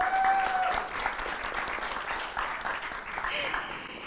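Audience applause at a startup pitching session, a steady wash of clapping lasting throughout at moderate level, with a host's voice faintly over it.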